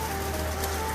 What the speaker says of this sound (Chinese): 一大早就下大暴雨，看着雨下的。